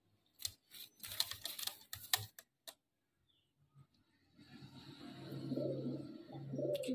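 Pigeons of highflyer and low flyer breeds coo and rustle softly at close range after a burst of sharp clattering taps, with a low murmur building toward the end.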